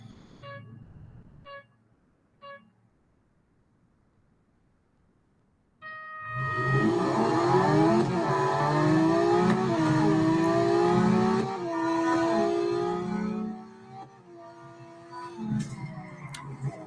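Drag race cars in the Real Racing 3 video game rev loudly together, a dense layered engine roar with rising and falling pitch sweeps, preceded by a few short beeps and quiet background sound, then easing off near the end.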